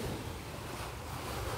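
Ocean waves wash steadily over deep open sea, a continuous roaring surf mixed with wind buffeting the microphone, with no talk.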